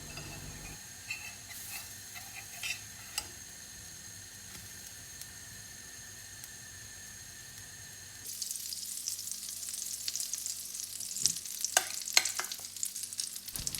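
Pancake batter sizzles in a frying pan, a quiet steady hiss that turns louder and brighter partway through, with faint scraping and clinks near the end.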